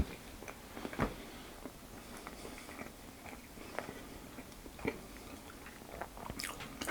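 Quiet, close chewing and biting while eating a mini mincemeat Christmas cake, with soft moist bites, a few sharper crunchy clicks near the start and middle, and no talking.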